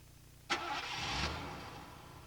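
A Lincoln-Mercury car engine starts with a quick crank that catches, then settles into a brief, fairly quiet idle.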